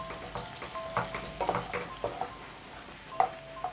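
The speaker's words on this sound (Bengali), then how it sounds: "তেলটা গরমও হয়ে গেছে, আমি আস্তে আস্তে এর মধ্যে আলুগুলো দিয়ে দিলাম।" Potatoes fry in hot oil in a pan, a close, steady sizzle broken by crackling pops and the scrape of stirring.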